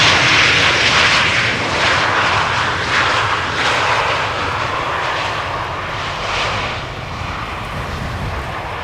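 A Transavia airliner arriving from Mykonos lands on the Polderbaan runway at Amsterdam Schiphol, a loud, close jet engine roar that stays strong and slowly fades as it rolls away.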